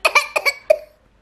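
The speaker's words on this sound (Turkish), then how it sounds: "Öksür." A child coughs on request, about five short, sharp coughs in quick succession, close and fairly loud, with no other sound between them.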